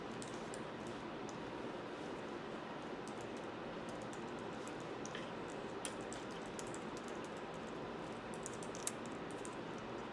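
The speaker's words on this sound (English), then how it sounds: "now you're going to type in your personal information" Quick, light keystrokes patter on a computer keyboard as personal information is entered, a faint continuous ticking over a low background hiss.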